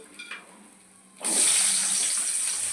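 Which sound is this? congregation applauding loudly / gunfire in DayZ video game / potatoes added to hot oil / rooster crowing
potatoes added to hot oil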